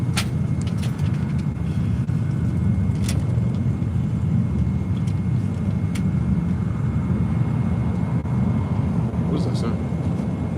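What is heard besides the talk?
jet taking off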